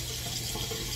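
Warm water runs steadily from a bathroom tap, a constant close hiss with no pauses over a brief moment.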